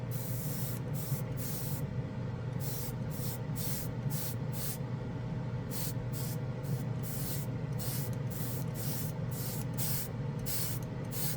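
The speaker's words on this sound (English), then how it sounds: "This airbrush really does like this paint." An airbrush sprays Vallejo Metal Color acrylic paint in a rapid series of short, sharp hissing bursts, close and steady, over a constant low hum.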